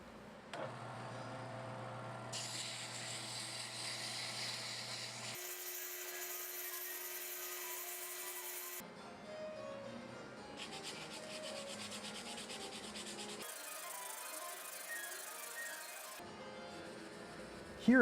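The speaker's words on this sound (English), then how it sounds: "After getting the profile close, I'll start sanding." Sanding a spinning mesquite pencil blank on a lathe: continuous close rubbing and hissing of abrasive against the wood over the motor hum, shifting in tone between several distinct passes.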